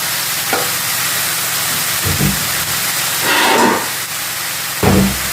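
Chicken pieces fry in a pan for a home-style chicken fry, giving a steady, loud, close sizzling hiss broken by a few short bursts as the meat is stirred. No one talks.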